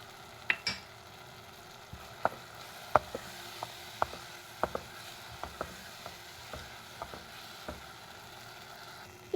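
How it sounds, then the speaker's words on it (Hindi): Ground spices, red and black pepper and coriander powder fry in a pan for a spicy potato and eggplant curry, a faint steady sizzle broken by sharp clicks and taps from stirring. "इधर ये फ्राई हो रहा है"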